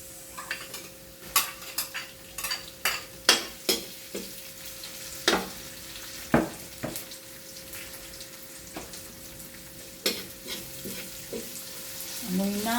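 Onions frying in a pan for chopsuey, with a steady sizzle under repeated sharp clinks and scrapes of a utensil stirring against the pan, close and fairly loud, no talking.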